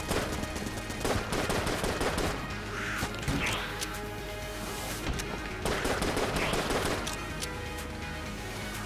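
Rapid gunfire from the video game Enter the Gungeon, with bursts of shots and impacts crackling in quick clusters over a busy game soundtrack, moderately loud and near.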